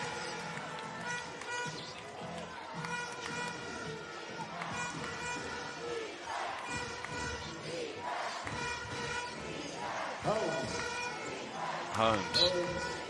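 An arena crowd at a British Basketball League playoff game between Sheffield Sharks and Leicester Riders roars and cheers, loud and sustained and swelling near the end, with a commentator talking over it.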